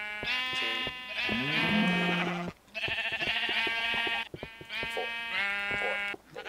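Sheep in the Minecraft video game bleat repeatedly, about five or six nasal, wavering calls in quick succession with brief gaps, loud and close with no talking over them.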